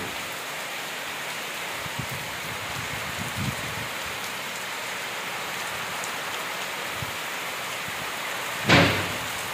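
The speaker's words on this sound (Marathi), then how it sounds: "हे ऊन सगळं होत्याचं नव्हतं करून मुसळधार धारा आता सुरू झालेल्या आहेत" Heavy monsoon rain pours steadily on a village in Sindhudurg, a dense continuous hiss of downpour with low rumbles and one sharper gust or splash near the end.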